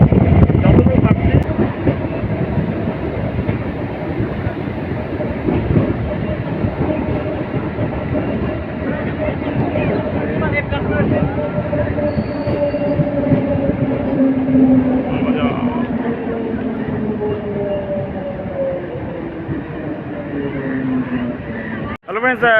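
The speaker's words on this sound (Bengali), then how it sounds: "ফরেস্ট দিয়ে কিন্তু ট্রেন আমাদের এখন ছুটে যাচ্ছে" A train runs through Nathaguri forest toward Malbazar, heard from on board as a loud, continuous rumble and clatter of wheels on rails with drawn-out tonal whines, ending in a sharp clunk.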